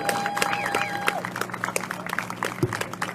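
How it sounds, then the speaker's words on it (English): Scattered clapping and crowd noise from an outdoor gathering at Papa Johns, with a whistle-like tone and murmuring voices mixed in. "They definitely deserve a big round of applause."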